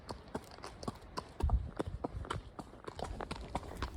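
Hooves of an Arabian horse climbing a Montana mountain trail, a close, rhythmic clip-clop of hoofbeats on dirt and rock, steady strides repeating throughout with light trail noise around them.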